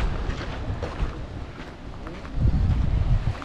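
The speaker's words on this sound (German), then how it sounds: "Es ist sehr windig." Strong stormy wind in the Anaga mountains on Tenerife buffeting the microphone, a loud continuous rushing roar with low gusty thumps that swell toward the end.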